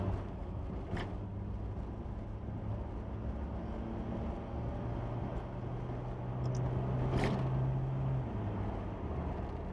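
A car's engine hums steadily from inside the cabin while driving, its drone rising and falling in pitch as gears are changed, with a couple of brief knocks.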